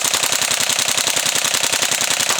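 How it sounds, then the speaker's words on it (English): A Tokyo Marui G36C Recoil Shock airsoft gun fires on full auto in one continuous, rapid mechanical burst, with a steady fast rhythm of cycling shots and loud buzzing throughout. "Let's go to full auto and check that RPM"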